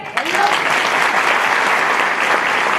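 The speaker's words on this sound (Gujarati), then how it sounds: "તાળીઓ થઈ જાય." An audience at a live stage show in Leicester bursts into dense, loud applause that holds steady, with many hands clapping close together.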